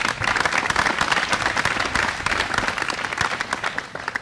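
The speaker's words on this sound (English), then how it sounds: "Boys, give them a round of applause." Boys and guests applaud at a school Founders Day ceremony: a loud, close burst of many individual claps, sharp and crackling, sustained steadily throughout.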